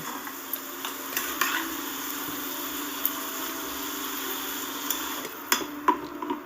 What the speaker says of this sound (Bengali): হলুদ আর লবণ দিয়ে বেগুনগুলোকে খুব সুন্দর করে ভেজে নেব